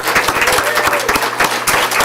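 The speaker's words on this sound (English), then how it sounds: "Let's give a round of applause." Audience applause at a school district board meeting, steady dense clapping from a seated crowd sustained through the whole stretch, with faint voices mixed underneath.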